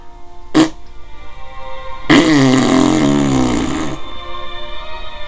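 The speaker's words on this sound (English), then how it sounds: "waited for the farting to stop" Fart sound effect: a short burst, then a long, loud, wet rasping blast lasting about two seconds, followed by fainter sputtering.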